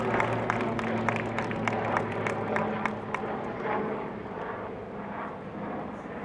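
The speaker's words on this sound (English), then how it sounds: "Let's let the helicopter pass." Steady engine drone of an aircraft overhead, a helicopter passing above an outdoor city council candidate forum. It is loud and continuous and slowly fades, with scattered clicks and faint crowd noise under it.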